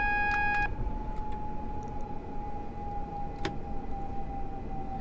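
An AWS warning from a Gatwick Express Class 460 in a train simulator game: a steady electronic tone that sounds continuously over low running rumble, with a few brief beeps near the start.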